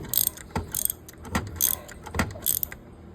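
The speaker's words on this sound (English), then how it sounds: "So I'm going to loosen the bolt up. Make sure I tighten the bolt up." A wrench loosens and tightens a bolt on a Case Ingersoll 3016 HyDriv hydraulic pump mount, giving four or five crisp metallic ratcheting bursts in a steady rhythm, close and fairly loud, with no talk.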